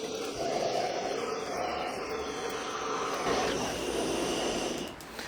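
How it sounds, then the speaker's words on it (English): A small portable rocket stove catching light outdoors, its flame building into a steady, broad roar that holds for several seconds and eases slightly at the end. "And there we go, the stove is lit."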